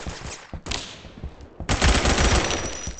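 Rapid automatic assault rifle fire in the online shooter game Phantom Forces, loud and close, coming in two or three sustained bursts over a few seconds with brief gaps between them.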